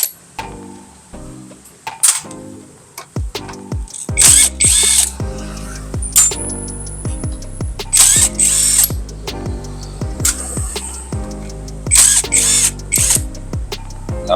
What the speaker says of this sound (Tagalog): Gamit tayo ng deep socket na 10mm.